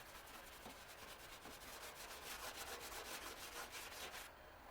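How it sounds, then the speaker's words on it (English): Fine grade steel wool rubs across a car's painted panel in fast, rhythmic back-and-forth scrubbing strokes, close and fairly quiet, stopping just before the end. "Do the whole area with the brake clean. And fine grade steel wool."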